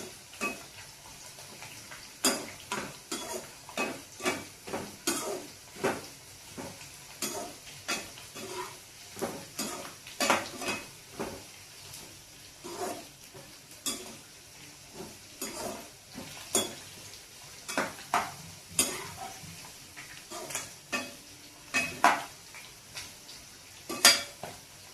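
Bitter gourd deep-frying in oil in a pan for kakarakaya karam curry: a steady soft sizzle runs throughout, broken by frequent sharp scrapes and clinks of a spoon stirring against the metal.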